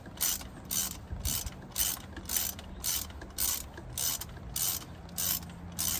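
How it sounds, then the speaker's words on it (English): A ratchet wrench clicks in repeated bursts while loosening the thermostat bolts on a 2021 Chevy Colorado V6, about a dozen close, even strokes of rapid pawl clicking with short pauses between. "Once we get these two bolts off, that's what holds the thermostat in place"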